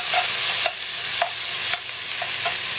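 Italian sausage and bacon cooking in a pot for chili con carne, a steady close sizzle broken by a few soft stirring scrapes at regular intervals.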